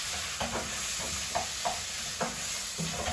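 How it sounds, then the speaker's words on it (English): A spoon scrapes and stirs thick tomato paste through sizzling vegetables in a soup pot, several distinct strokes over a steady frying hiss, close and clear with no talking. "You just really want to make sure that you stir that in with everything else going on in here."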